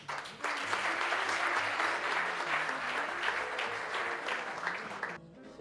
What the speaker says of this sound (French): j'aimerais qu'on applaudisse l'équipe de Sébastien Montour.